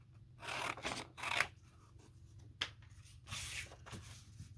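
Scissors cut a sheet of paper in half for a sketchbook, giving a few quiet, close snips and rustles with short pauses between them.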